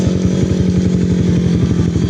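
A Honda CBR250R motorcycle being ridden on a holiday trip home, its engine droning loud and steady with a rapid pulsing throb throughout, with no talk.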